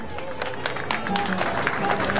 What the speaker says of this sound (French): de nous remettre son prix sous vos acclamations